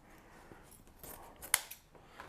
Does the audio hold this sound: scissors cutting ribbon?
yes